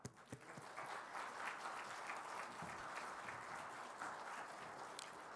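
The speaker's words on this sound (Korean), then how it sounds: "우리 강사님 나올 때 박수로 환영하겠습니다." Church congregation at a morning revival meeting applauds to welcome the guest speaker, with a faint, even patter of clapping heard from a distance that continues for several seconds.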